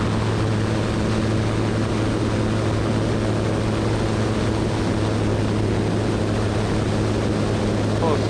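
A seaplane's propeller engine powering up for takeoff from water, a loud, steady, droning roar with a constant low hum that holds evenly throughout.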